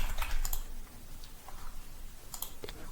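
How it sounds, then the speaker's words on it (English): Quick bursts of keystrokes on a computer keyboard while typing into Notepad, clustered clicks separated by short pauses, fairly close and quiet. "let's just start typing"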